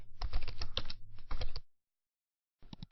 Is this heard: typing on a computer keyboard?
yes